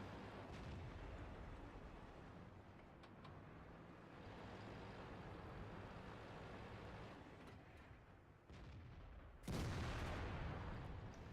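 A tank's main gun fires in World of Tanks, a single loud blast near the end over a continuous battle rumble.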